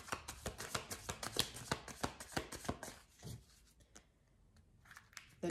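Oracle cards are shuffled up close in a quick run of sharp riffling slaps for about three seconds, then a few softer taps and a pause of near quiet.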